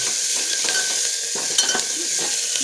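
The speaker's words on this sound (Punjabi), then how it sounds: "ਗੰਡੇ ਥੋੜੇ ਜਿਹੇ ਭੁੰਨ ਲਈਏ" Onions frying in a pan on a home kitchen stove, giving a steady bright sizzle with a few soft stirring scrapes. No voices.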